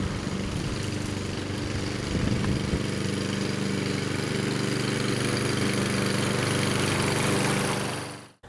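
A lawn mower engine runs steadily at close range while cutting a yard during a fall cleanup, a continuous loud droning hum with a slight surge near the two-second mark, cutting off abruptly at the end.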